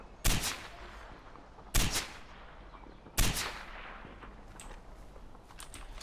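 Three heavy, booming shots from a powerful weapon in the video game Far Cry 4, spaced more than a second apart and each trailing into a short echoing decay, with faint clicks and low game ambience between blasts.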